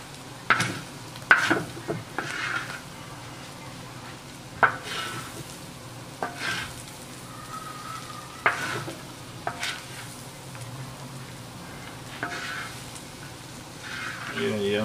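Feijão tropeiro mixed with farinha is stirred in a pan: intermittent scraping strokes over a low, faint sizzle, with a voice speaking now and then in the background.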